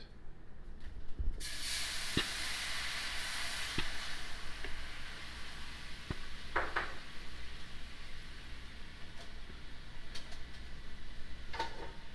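A homemade Mexican pizza steams under cover in a pan, a steady broadband hiss after a sudden onset, dotted with faint ticks and pops of the pan, with no talk.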